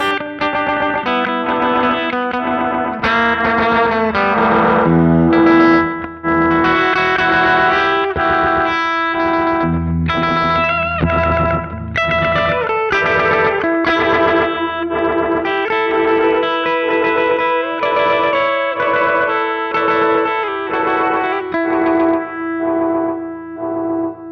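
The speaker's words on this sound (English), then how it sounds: "It's got like a regenerating echo thing." An electric guitar runs through an Alexander Superball delay pedal set to a regenerating echo preset, with distorted notes and chords whose repeats build and trail on, loud and without talk.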